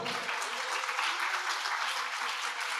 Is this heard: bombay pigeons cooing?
no